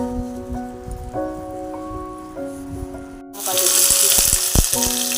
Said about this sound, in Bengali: কুমড়ো পাতায় দিয়ে মাছ ভেজেছি